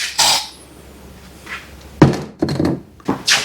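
A plastic filter cover on a pond pump is set back into place with several close, hollow thunks and knocks, irregularly spaced, with no talking.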